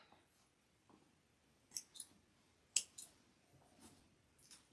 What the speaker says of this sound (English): Cut off some threads.